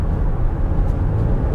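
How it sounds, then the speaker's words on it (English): A Toyota Sienna minivan accelerates to pass. Inside the cabin, a loud, steady low engine and road drone holds for a brief moment with no talking. "when I have to go down and get some passing power, it's there"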